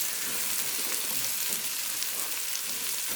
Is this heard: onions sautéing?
yes